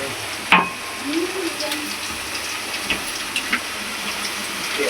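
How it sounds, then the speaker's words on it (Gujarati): Whole cumin seeds and garlic sizzle in hot oil as the base for a spiny gourd (kantola) curry, a steady close hiss opened by a sharp metallic clink, with a few light stirring taps after. "આખું જીરું થોડુંક તતડી જાય ને પછી એમાં લસણ નાખી દેવાનું છે"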